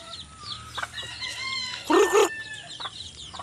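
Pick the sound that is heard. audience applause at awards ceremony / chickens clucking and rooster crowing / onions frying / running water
chickens clucking and rooster crowing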